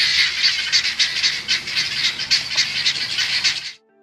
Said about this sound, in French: l'alarme de la pintade avertit également les autres animaux ainsi que les fermiers de l'approche d'un danger